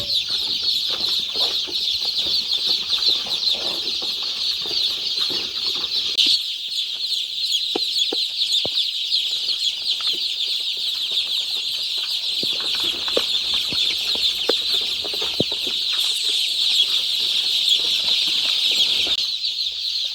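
Many newly hatched chicks peep nonstop in a brooder pen, a dense, high, continuous chorus of shrill cheeping with faint scuffling below it.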